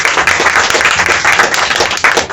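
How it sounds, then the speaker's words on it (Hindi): Audience applause at a gathering in a herbal store, steady dense clapping from many hands filling the room at a loud, even level with no voices over it. "तो आप सभी के लिए एक बार ताली होनी चाहिए।"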